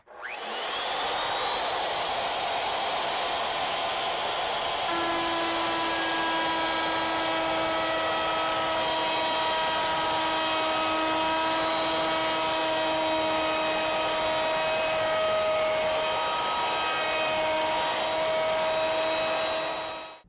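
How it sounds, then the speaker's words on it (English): A router fitted with a V-groove bit chamfers the wooden edges of fireplace molding with a loud, close, steady motor whine. The pitch shifts slightly partway through as the bit bites into the wood, running continuously for about twenty seconds. "Now we're going to use the V-groove bit. We're going to chamfer this edge here and chamfer this edge here."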